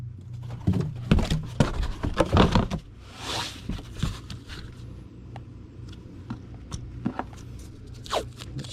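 Packing tape is pulled and pressed down to seal a Gemini mailer holding a Robotech comic book. A cluster of sharp, ripping, crinkly bursts comes close and fairly loud, then a single longer screech of tape peeling off the roll, then softer scattered handling sounds.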